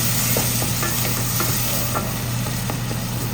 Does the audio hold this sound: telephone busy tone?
no